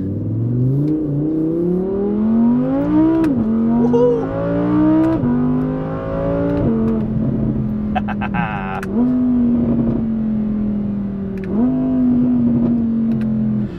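An Audi R8 V10 engine with a quick seven-speed dual-clutch transmission revs hard through repeated gear shifts, the pitch climbing and dropping with each change, loud and close, with a brief excited shout.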